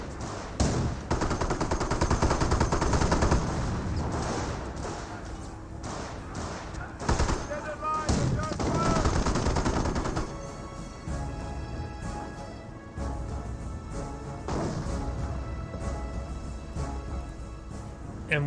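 Sustained machine-gun and rifle fire in a Company of Heroes 1 battle between US forces and Panzer Elite, with dense bursts and thuds throughout, heaviest early and continuing steadily, mixed with game voice chatter.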